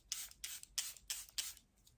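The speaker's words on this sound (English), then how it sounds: "going in with my finishing spray" Charlotte Tilbury Airbrush Flawless setting spray mists in five quick, close hissing pumps at an even rhythm, each a short airy burst, followed by a couple of fainter spritzes.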